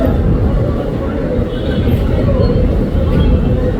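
Low rumbling of a stopped Sagardari train, Rajshahi to Khulna, with a steady, heavy drone throughout, mixed with noise and voices of a student protest crowd nearby.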